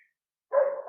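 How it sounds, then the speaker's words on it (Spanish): A neighbour's dog barks once from next door, a single fairly loud bark after half a second of silence. "En mi barrio hay perros, o sea que si ustedes los escuchan, no es que están dentro de mi casa"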